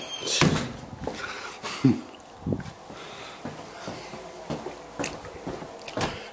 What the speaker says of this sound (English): I will use the front door.